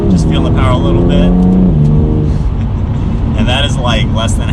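A 2020 BMW M2 Competition accelerates at under half throttle, its engine note climbing steadily for about two seconds, then settling into a rougher, broadband road and exhaust roar heard from inside the car.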